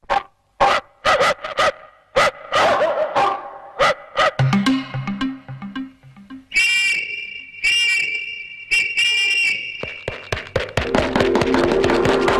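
A man imitates a dog barking in a Telugu comedy scene: a run of sharp, loud barks, then drawn-out howling and whimpering yelps, with taps between them.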